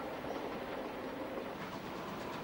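An elderly 6th or 7th class steam locomotive hauls its train at a distance, giving a faint, continuous rumble with soft rhythmic clatter from the rails and no voices.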